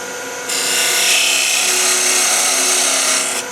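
A thin parting tool cuts straight into spinning wood on a lathe while shaping napkin rings, giving a loud, steady scraping hiss that starts sharply and holds for about three seconds before easing off.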